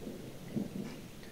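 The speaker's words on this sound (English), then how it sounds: "due to heavy rain getting even heavier" Heavy rain in the horror video game Jack Is Missing, a soft continuous wash of rainfall with low rumbling swells underneath, fairly quiet and free of talk.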